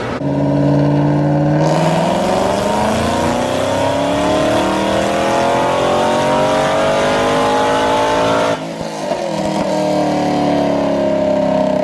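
Supercharged Chevrolet Camaro ZL1 engine revving hard on a dyno pull with no nitrous, a loud sustained roar rising in pitch, a brief dip near the end, then roaring again, close and alone.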